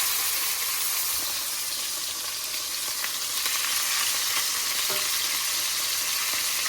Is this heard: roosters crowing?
no